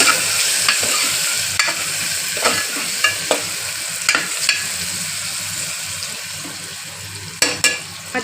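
Dal khichdi with turmeric is stirred in a pan, the spoon scraping the metal in repeated short strokes over a constant low sizzle, close and fairly loud, with no voices.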